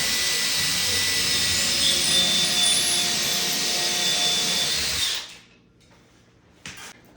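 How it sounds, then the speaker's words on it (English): A power drill whirs loudly and steadily for about five seconds as it bores a pilot hole for an IKEA kitchen suspension rail, then stops abruptly, followed by a brief faint knock. "I put this up and then I pilot my hole right here."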